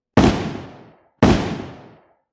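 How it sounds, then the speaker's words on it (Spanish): Two sharp, loud gunshots, about a second apart, each with a short decaying echo. No other sound between them. "sentí dos disparos a mi derecha"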